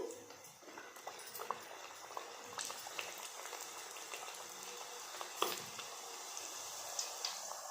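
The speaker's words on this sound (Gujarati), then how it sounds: "હવે આપણે બીજી પૂરી તળી લઈશું" Bajri methi puri made from millet flour and fenugreek fries in hot oil, giving a quiet, steady sizzle with scattered small crackles and pops and no speech.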